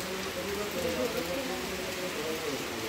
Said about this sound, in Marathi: पाऊस काय कमी व्हायचं नाव घेत नाही